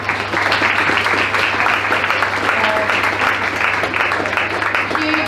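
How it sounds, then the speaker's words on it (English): A crowd at an Ulster ladies senior club championship Gaelic football final claps loudly and continuously for the Errigal Ciaran team, a thick wall of applause with a low steady hum beneath it. "Big round of applause for Errigal."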